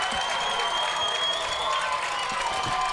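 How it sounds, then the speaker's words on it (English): Home crowd at a South Stanly versus Mount Pleasant high school football game roars and cheers, a dense continuous wall of noise with scattered claps, loud throughout and without clear talk. "Wow, it's getting hard to hear over this crowd"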